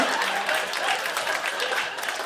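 A stand-up comedy audience breaks into dense, continuous applause, a steady wash of clapping hands that fills the room for a couple of seconds, heard from within the crowd.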